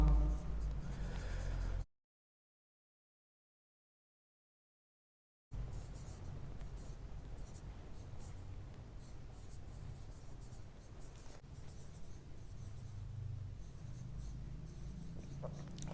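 An equation is written on a board during a physics class: continuous scratchy writing strokes, close and steady, broken by a few seconds of silence before the writing resumes.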